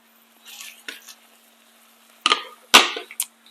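Dense chopped vegetables tossed into a skillet beside tofu, a few sharp clattering drops and scrapes near the end, preceded by soft rustling and light pan taps in a quiet kitchen.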